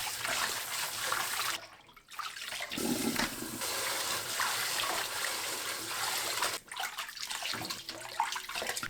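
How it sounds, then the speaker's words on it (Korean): Blanched bomdong spring greens are rinsed in cold water: steady running and splashing water close by, briefly stopping twice before pouring again, with no talking. "찬물에 두세 번 헹굽니다."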